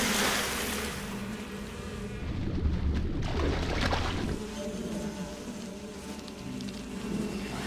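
A bee swarm buzzes in the Metal Gear Solid 3: Snake Eater video game during the encounter with the boss The Pain. The buzzing is a dense, continuous rush over a wide noisy wash and swells loudly near the middle.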